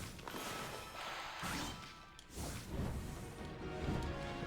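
Treasure chest being struck open in the video game Okami, a crashing smash amid a dense, busy wash of game music and effects, fairly quiet overall with no voices.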